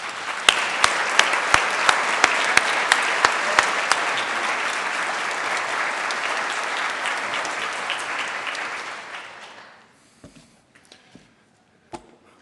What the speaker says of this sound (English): Let's give President Bill Cadman another round of applause,